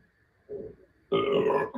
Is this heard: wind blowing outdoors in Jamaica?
no